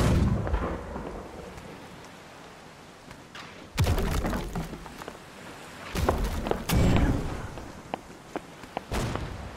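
Ship cannons booming in a naval battle in the Holdfast game, several heavy, rumbling blasts spread unevenly, some close and loud, others more distant, with a low ambient rumble between shots.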